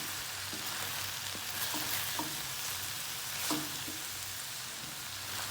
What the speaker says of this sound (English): We just want to give it a nice stir.